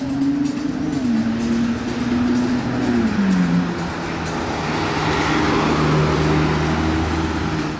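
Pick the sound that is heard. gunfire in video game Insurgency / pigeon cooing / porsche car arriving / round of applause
porsche car arriving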